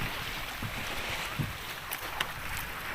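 A small outrigger boat rides rough waves at sea, with a continuous rushing hiss of water and wind, faint thuds and splashes at a moderate distance, and no talk.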